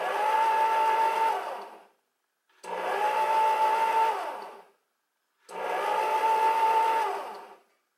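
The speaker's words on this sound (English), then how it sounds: "I'm going to use the fold setting and see how it folds in the preserves" A Hamilton Beach 63325 six-speed stand mixer on its fold setting runs in three steady whirring bursts of about two seconds each, separated by short silent pauses, as preserves are folded into a batter.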